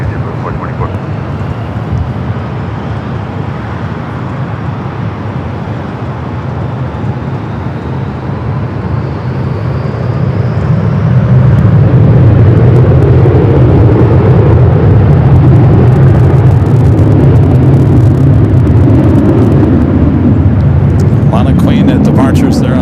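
A JetBlue airliner takes off from runway 24 left at LAX. A low jet rumble swells into a loud, sustained roar about halfway through and stays heavy to the end, with a voice speaking over it.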